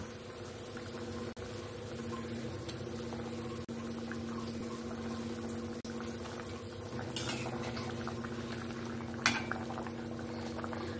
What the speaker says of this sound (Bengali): এবার আমি ভেজে রাখা মাছগুলো দিয়ে দেব